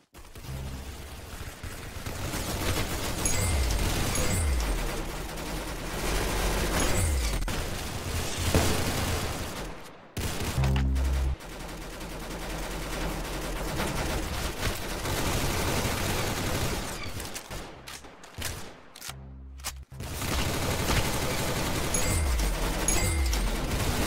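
Rapid gunfire from the Roblox shooter Arsenal during online gameplay, dense fusillades and bursts of shots running almost continuously with brief pauses, loud and close.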